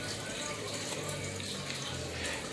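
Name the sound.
water poured into a clean bowl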